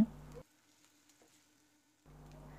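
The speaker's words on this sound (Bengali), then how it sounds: "এবার মাঝারি ফ্লেমে পেঁয়াজটা হালকা ভেজে নিচ্ছি" Faint sizzle of onions frying in mustard oil over a medium flame, heard at the start, dropping away to near silence, then returning softly.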